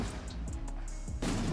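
Shots from a 50mm-calibre No Limits firework battery, heard as a few sharp outdoor bangs spaced unevenly, ending in a louder, broad burst.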